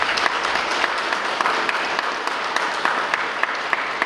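A concert audience in Moscow applauds at a classical music event, steady dense clapping with a few sharper individual claps standing out, continuing evenly for about four seconds.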